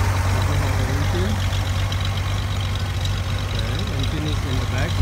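A restored 1965 Chevy Corvair's rear-mounted air-cooled engine, with a carburetor on each side, runs steadily at idle with a constant low rumble that fills the whole stretch without breaks.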